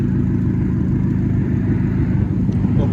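A 2016 Ford Fusion SE with a four-cylinder engine and a Cherry Bomb glass pack exhaust idles steadily, a loud, close, deep rumble holding an even tone throughout with no voices.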